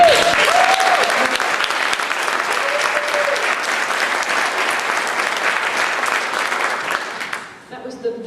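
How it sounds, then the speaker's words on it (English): Sustained applause from a crowd fills several seconds, steady and fairly loud, then tapers off and stops. "So let's just give him a round of applause."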